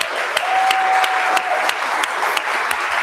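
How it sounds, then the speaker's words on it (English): Audience applause at the Intact Global 2026 conference, a steady, dense clatter of many hands clapping for about three seconds, filling the room evenly with a few sharper claps standing out. "so big round of applause for Justin."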